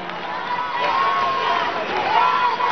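A crowd at a Venezuelan political congress cheers and applauds indoors, a steady, loud wash of clapping and shouts with a few high voices rising through it.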